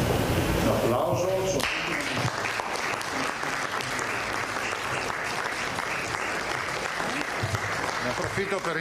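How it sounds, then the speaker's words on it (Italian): Applause from an audience at a regional government press event in Italy, a steady dense clapping that starts after a brief voice and carries on loud and even to the end. "Un applauso."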